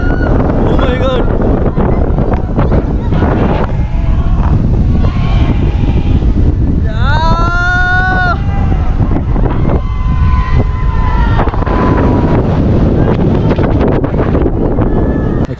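Wind roars steadily and loudly against the microphone on a fast water park ride at Bangalore Fun World, a dense, continuous rush lasting throughout. A voice cries out briefly in the middle.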